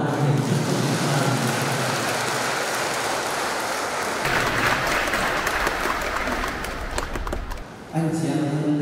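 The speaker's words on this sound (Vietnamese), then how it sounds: "Cộng đoàn chúng ta cùng đồng một tràng vỗ tay để chúc mừng các bạn." Wedding mass congregation applauding the newlyweds, steady dense clapping that fills the church for about eight seconds, swelling midway and then briefly dropping before resuming.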